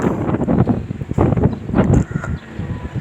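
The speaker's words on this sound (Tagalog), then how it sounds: "Mahangin." Steady wind buffeting the microphone in gusty waves outdoors in Biñan, Philippines, with a faint rustle and distant hum beneath, no talking.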